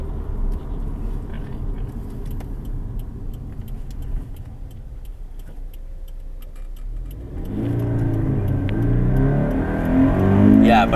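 A Toyota GT car idles with a low rumble, then the engine revs up and climbs steadily in pitch, growing louder near the end.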